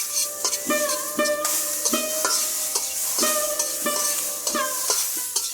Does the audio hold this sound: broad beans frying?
yes